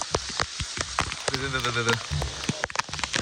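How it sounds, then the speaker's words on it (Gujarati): Heavy rain pours down on a village during a flood, a steady dense hiss filling the whole clip while someone talks over it. "બહુ ફાસ્ટ વરસાદ આવ્યો છે"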